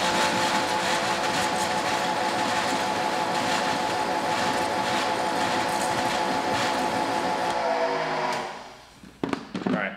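A Harbor Freight Bauer electric pressure washer sprays through a 15 degree, 2.5 millimeter nozzle in a loud, steady hiss with a motor drone, then cuts off abruptly, leaving a few clunks.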